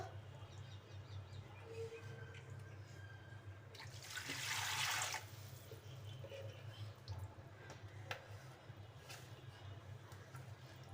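Water is poured into a mix of potato and lentils: a brief, close splash of pouring liquid midway, set against a quiet, low background hum.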